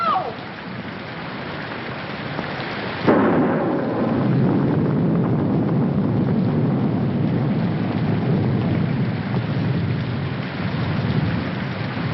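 A thunderstorm in a classic movie: steady heavy rain hisses throughout, and a loud thunderclap breaks in a few seconds in, then rolls on under the downpour.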